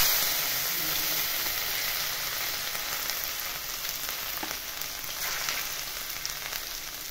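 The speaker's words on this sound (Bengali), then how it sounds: "মশলা ফুটে উঠেছে, এবার দিচ্ছি আদা রসুন কুচি।" Chopped ginger and garlic fry in hot oil tempered with nigella and cumin seeds, giving a strong, continuous bright sizzle that slowly settles, with no voices over it.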